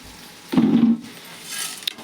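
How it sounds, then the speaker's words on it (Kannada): Garam masala spices hit hot oil in a pan with a brief loud sizzle, followed by a softer crackle and a light utensil clink. "ಈಕಿ ಮಗಳು ನೋಡ್ರಿ, ಮಗಳು ಹುರಿಯಾಕತ್ತಾಳ"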